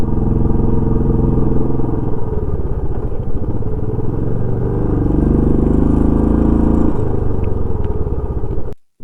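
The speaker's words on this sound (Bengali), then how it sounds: "সামনে যে দাদাটা স্কুটি চালাচ্ছে" A scooter rides along a mountain road on the Sarchu to Leh route toward Ladakh, its engine droning steadily and loud near the recorder, with wind and road clatter mixed in until it cuts off at the end.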